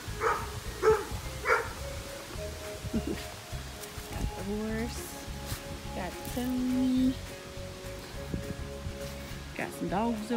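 Dogs bark in the distance at an outdoor off-leash training session, a few scattered barks under a trainer's close spoken commands and praise.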